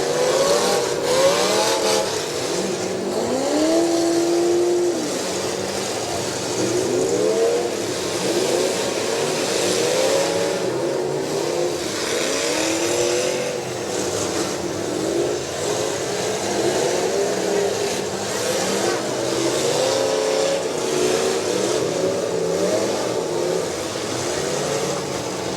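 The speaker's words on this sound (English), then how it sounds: "Listen to that motor under the hood of Richard Clark's car." A demolition derby car engine at a Lorain County fair show roars and revs continuously, rising and falling in pitch through repeated throttle pulls, loud and close with crowd noise beneath.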